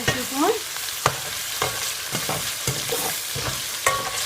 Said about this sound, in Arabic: هنا يتحمس عندي المعجون ويا الثوم والبصل واللحم